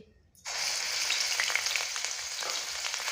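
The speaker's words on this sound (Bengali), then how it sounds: "পেঁয়াজটা একটু ভেজে নেবো" Onion paste dropped into hot oil in a wok (kadai) for Mughlai paratha filling, a near-silent moment then an abrupt loud sizzle that keeps hissing and crackling steadily close by.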